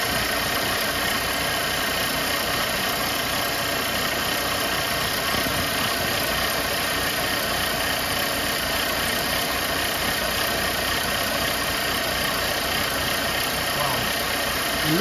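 A Mercedes-Benz C250 engine idles just after starting, a steady, loud mechanical hum with faint ticking that holds unchanged for the whole stretch, close to the car.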